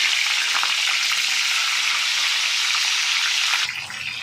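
Green chillies and marathi moggu sizzling in hot oil for a chicken curry: a loud, steady, close hiss that drops off abruptly near the end, no voices.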